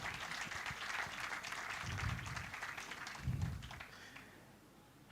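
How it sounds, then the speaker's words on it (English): An audience at a Rotary Club installation claps for visiting members of the Rotary Club of Kampala South, a sustained, even patter of many hands with a few louder swells before it thins out near the end. "Please give them a round of applause"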